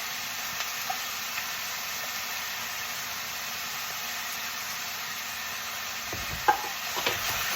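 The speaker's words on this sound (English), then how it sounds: "So we're going to stir that around with our mix here." Sour cream is stirred into a hot pan mixture on turned-down heat, a steady hissing sizzle under faint scraping, with a few spoon knocks near the end.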